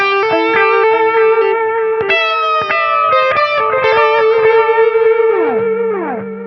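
An electric guitar runs through a $26 analog delay pedal and a Dumbler overdrive, playing driven, sustained notes and chords that trail into echoing repeats, ending with a pitch-swooping delay warble.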